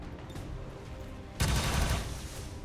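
Gunfire bursts out in a Warhammer 40k modded video game, a loud dense volley that starts abruptly partway through and keeps rattling to the end over a quieter battlefield din.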